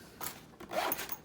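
A steel YKK zipper on a Velocity Rogue 6.0 tool bag is pulled in two short, quiet strokes, giving a close, scratchy ripping sound.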